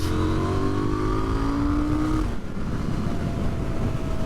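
A KTM 990 Duke R motorcycle engine on overrun while braking on a cold day: a loud, close engine note falls steadily in pitch, then gives way to a rougher, lower rumble, with no talk.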